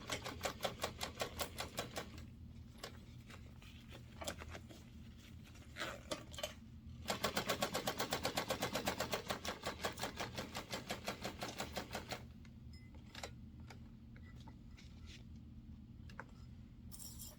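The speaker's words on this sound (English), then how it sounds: "we're going to sew this down with 1/4 inch" A sewing machine stitches down a zipper seam in quick rapid bursts of mechanical clatter, stopping and starting several times with short quiet gaps between runs.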